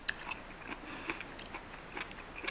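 Someone chews a mouthful of yakisoba with shrimp, mushrooms and napa cabbage, soft close bites and crunches repeating irregularly at low volume.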